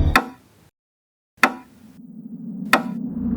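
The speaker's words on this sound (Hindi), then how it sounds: "उस दरवाजे को खटखटाया तो सही" Three sharp, loud knocks on a door, spaced more than a second apart, the later two followed by a low steady hum in the background.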